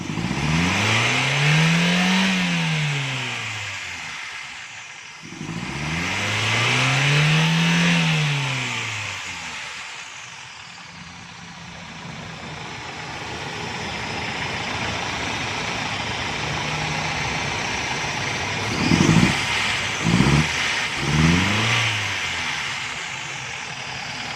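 CNG car engine after a gas adjustment, revving up and down in two long close sweeps, settling to idle, then three quick sharp blips of the throttle.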